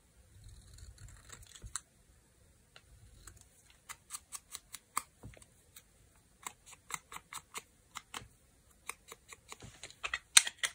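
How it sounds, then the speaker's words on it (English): Scissors cut through a paper card in a quiet room, a quick run of crisp, evenly spaced snips and clicks, close and moderately loud, with softer rustling of the card at the start and no voices. "I'll attempt to cut it straight."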